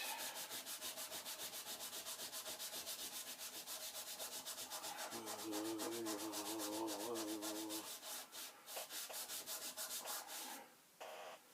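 Magic eraser rubbing over the plastic casing of a Commodore PET 4016, a fast, steady back-and-forth scrubbing that runs close and continuous, turns slightly deeper midway, then breaks into shorter strokes before stopping.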